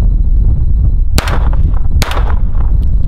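Two sharp gunshots from a Phoenix Arms HP22 .22 pistol at an outdoor shooting session, about a second apart, each a loud crack with a short tail, over steady wind-like rumble.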